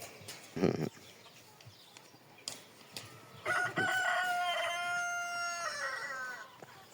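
A rooster crows a long, drawn-out call at moderate distance on a Spanish farm, preceded by scattered clucking and farmyard noises.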